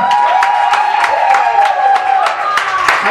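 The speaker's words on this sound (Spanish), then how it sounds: "fuerte aplauso." A rock jam crowd at Rockville applauds a singer as she is introduced, with bursts of clapping and cheering close by and loud, while musical tones ring underneath.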